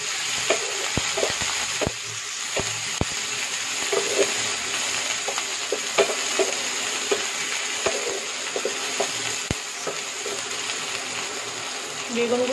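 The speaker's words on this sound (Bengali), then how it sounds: "ভালো করে নেড়ে নেব।" Green chillies, chopped onion and whole spices fry in a hot pan with a continuous close sizzle, broken by frequent sharp taps and scrapes of a spoon stirring against the pan.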